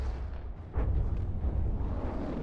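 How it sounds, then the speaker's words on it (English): A large explosion from an APHE shell in a naval video game, a deep rumbling boom that swells suddenly and rolls on heavily for a couple of seconds. "an explosion that big could only be from the husk APHE"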